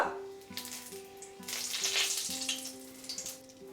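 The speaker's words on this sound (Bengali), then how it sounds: "তেলটা ভালো মতো গরম হয়ে গেলে এর মধ্যে দিয়ে দিচ্ছি তেজপাতা" Bay leaves sizzle in hot white oil in a pan, a steady close frying hiss with crackling bursts over a faint tonal hum, alone without voices.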